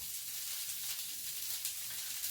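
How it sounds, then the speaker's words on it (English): Meat searing over high heat in a hot pan, a steady, continuous sizzle with broad hiss, close and even throughout with no talking. "And while it's searing I'm putting it on a higher heat"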